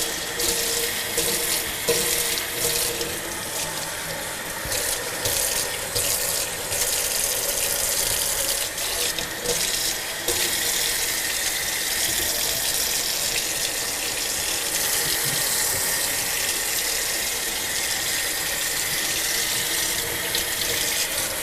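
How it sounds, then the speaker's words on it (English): Cold water runs steadily from a kitchen sink faucet during rinsing, a continuous close hiss and splash that holds at an even level for the full stretch with no talking. "And when you're rinsing, use cold water."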